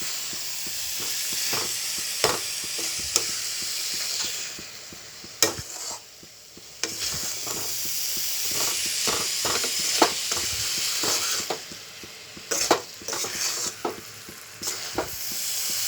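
Grated coconut being stirred into melted jaggery in a pan, repeated close scraping strokes of a spoon against the pan over a soft sizzle, steady and rhythmic throughout.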